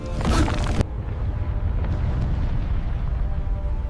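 Massive volcanic eruption of Thera island as a sound effect: a loud burst of blast noise for under a second, cutting off into a sustained deep rumble that carries on to the end.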